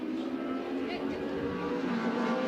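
Race cars at Bathurst in 1987, where Nissan Skylines battle BMW M3s, a sustained engine drone on track under commentary, holding a steady pitch with slight rises as the cars run.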